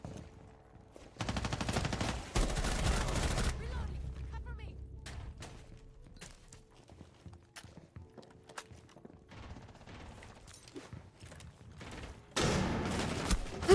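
Gunfire in the tactical shooter Rainbow Six Siege: several loud, rapid bursts of automatic fire separated by quieter stretches of scattered shots and mechanical clicks, with a final burst near the end.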